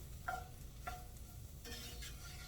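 Leftover pork chops sizzle faintly in a little bacon grease, a low steady crackle with a few scraping stirs spaced out over the moment.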